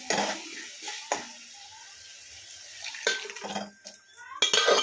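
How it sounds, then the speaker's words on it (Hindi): Boiled kidney beans (rajma) tipped into a kadhai of cooked spices: a few sharp metallic clatters and scrapes of utensil against the pan, spaced by quieter sizzling stretches, close and moderately loud. "अब समय आ गया है कि राजमा को मैं कढ़ाई में डाल दूँ, क्योंकि मसाले अच्छी तरीके से पक गए हैं"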